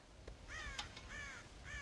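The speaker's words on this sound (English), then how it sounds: "God damn crows!" Crows cawing in the Red Dead Redemption video game, three or four harsh caws in quick succession, faint and distant over a low ambient background.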